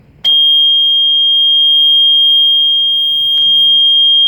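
A loud, piercing electronic alarm tone on a sailboat sounds continuously and unbroken during engine removal, with a brief faint clunk partway through.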